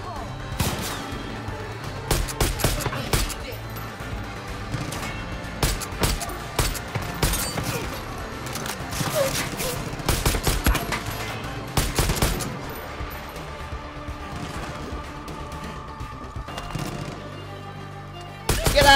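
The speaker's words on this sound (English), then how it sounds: "We got live fire." Dense, continuous gunfire in Far Cry 5: rapid bursts and single shots layered over one another for the whole stretch, loud and close, with crashes and a voice now and then underneath.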